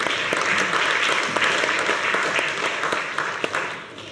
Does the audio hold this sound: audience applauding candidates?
yes